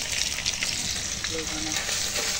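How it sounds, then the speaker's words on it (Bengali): Small mourola fish frying in hot oil in a home kitchen, a steady, dense close sizzle that crackles evenly throughout with occasional brief stirring scrapes. "এই ছোটো মাছ ভাজা হচ্ছে এখন।"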